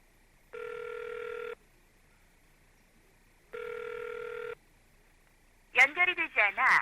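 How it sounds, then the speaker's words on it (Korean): A mobile phone call rings unanswered, two long electronic ring tones about three seconds apart heard down the line, followed by a brief burst of speech. "휴대폰으로도 수차례 전화를 걸어봤지만 받지 않았다"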